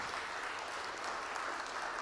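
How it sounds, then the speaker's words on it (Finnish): Steady applause from a conference audience greeting a panelist at a security conference in Kouvola, a dense even wash of clapping throughout with no voices over it. "Ja aplodit Katille."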